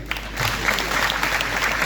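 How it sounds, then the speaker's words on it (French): Audience applause at a university graduation ceremony, steady clapping from a crowd filling the hall for about two seconds, fairly even in level without a clear start or end. "ce que je voudrais, s'il vous plaît, c'est que vous applaudissiez vos professeurs et vos parents."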